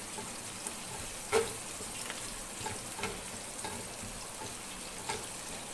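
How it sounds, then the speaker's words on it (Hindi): Onions frying in oil for an aloo mattar yakhni pulao, giving a steady soft sizzle with a few faint stirring clicks, fairly quiet and without any talk. "प्याज को थोड़ा सा हम ब्राउन होने देंगे।"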